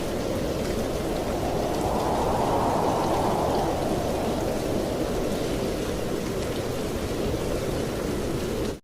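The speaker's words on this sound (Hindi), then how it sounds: "कुछ ही देर में बारिश शुरू हो जाती है" Steady rain hisses continuously, a broad wash of falling water that swells slightly early on, with no voices or other sounds.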